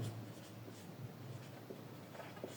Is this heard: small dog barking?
no